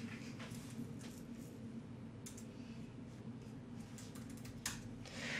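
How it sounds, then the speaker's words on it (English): Typing on a computer keyboard while entering a terminal install command, soft scattered key taps over a low steady background hum, close and faint, with no speech. "we can type in NPM install."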